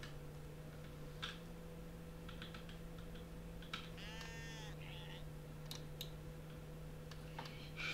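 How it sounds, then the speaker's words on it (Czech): In a video game, a single sheep bleats briefly at mid-level, heard over a steady electronic hum with scattered keyboard clicks and ticks around it. "Že to je nějaká ovce."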